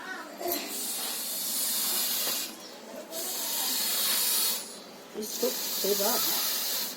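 Breathy hissing bursts of air blown through a blowpipe onto a wood fire in long puffs, several in a row with short pauses, close by, with faint crackling and brief voices between.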